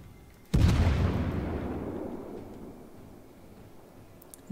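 A warship's main guns fire a single loud, deep boom in the naval battle game World of Warships, with a long rumbling decay that fades over several seconds before a small pop near the end.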